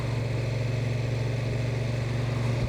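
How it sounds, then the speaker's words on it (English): A Honda NT1100 DCT motorcycle in sport mode, engine braking on the road: a steady, close, continuous engine drone with a low throbbing hum throughout and no talking. "Yeah, now I'm getting the engine braking I like."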